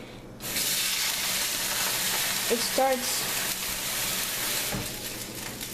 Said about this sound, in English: see how it's sizzling?